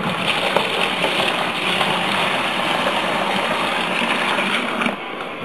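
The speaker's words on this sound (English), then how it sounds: "Hot water from the tap." Hot water running from a kitchen tap, a steady loud gush that fills the whole clip and dips slightly just before the end.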